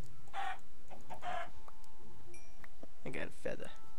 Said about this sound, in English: You killed the chicken.